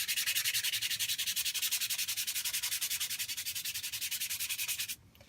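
Rapid rhythmic scraping of sandpaper on a crinkly aluminium foil ball, steady strokes close up, stopping abruptly near the end.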